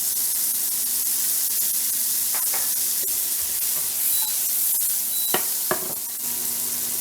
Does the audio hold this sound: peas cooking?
yes